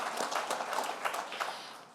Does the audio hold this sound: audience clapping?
yes